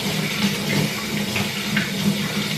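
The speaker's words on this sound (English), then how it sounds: "I'm going to take my sprayer that I have here on my sink, and I'm going to add some warm water to the bottle" Warm water sprays steadily from a sink sprayer into a bottle, a close, continuous hiss with no pauses, used while bathing a Shih Tzu.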